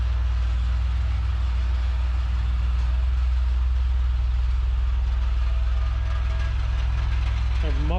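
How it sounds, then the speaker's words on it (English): A car idles with a steady low rumble and a continuous loose rattle from its muffler, loud and close throughout, with a rising tone breaking in near the end. "The muffler's rattling."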